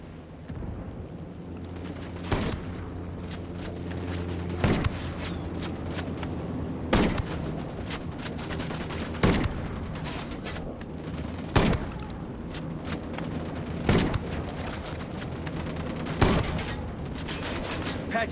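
Sniper rifle fire in the video game Ghost Recon Wildlands: sharp, loud single shots ring out about every two to two and a half seconds over a steady in-game ambient backdrop, with no voices.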